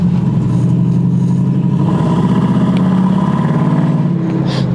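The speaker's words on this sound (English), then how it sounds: "love the exhaust of this thing." Chevrolet S10 pickup truck with an LS engine swap, its exhaust rumbling loud and close in a steady, throaty drone with slight rises in revs, heard alone.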